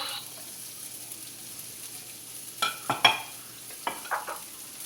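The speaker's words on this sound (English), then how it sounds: "Carrots are in to the pan. You should hear a sizzle." Carrots and onions sizzle faintly in a pan for a chicken stir-fry, with a few scraping stirs and clatters breaking through near the end.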